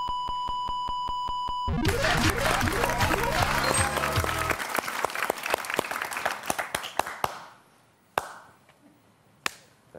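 Applause from a game show studio audience breaks out right after a bright tone, mixed with sharp percussive hits and a musical sting, then fades to scattered claps and a few isolated loud strikes.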